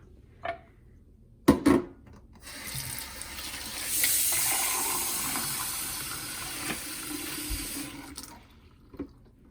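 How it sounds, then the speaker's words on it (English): Water runs from a tap into a container for several seconds, a steady rushing splash between a few clinks and knocks. "fill it up to the top with water"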